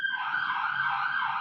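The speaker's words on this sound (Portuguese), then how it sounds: "Olha a ambulância passando no fundo." Ambulance siren sounding in the background, a steady wailing tone that holds and wavers slightly for the whole moment, clear and without talk.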